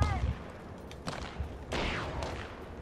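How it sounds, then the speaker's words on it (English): Gunfire on a ship in a video game comes as a few scattered, fairly faint cracks and bursts against a low background rumble. "Hey, careful, they're shooting on the ship."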